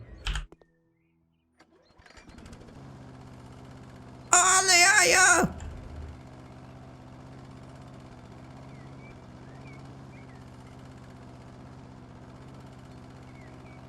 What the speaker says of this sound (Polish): użyj narzędzia kosiarka spalinowa, skoś trawnik